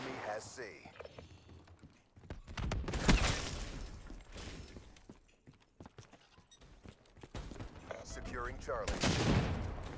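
Video game gunfire in rapid bursts and volleys, loud and close, rising and falling over several seconds, with a player talking over parts of it.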